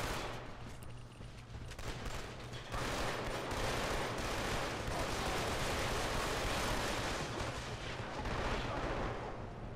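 Assault rifle and pistol fire from Killzone 2 roars in dense, continuous bursts, with sparser shots at first giving way to sustained, loud rapid gunfire that fills the whole clip.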